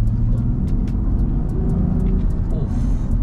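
Land Rover Defender 110 engine running with a deep, steady rumble from inside the cabin, heard continuously and fairly loud under a low hum.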